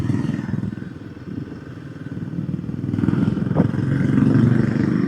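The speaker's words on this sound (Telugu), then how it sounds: "వితౌట్ సైలెన్సర్ చేంజింగే మనకి మంచి బీటింగ్ వస్తుంది" Royal Enfield Classic 350 engine with its stock silencer, running on a ride near Leh, Ladakh: a steady low thumping beat that rises slightly toward the end, with some clatter layered over it.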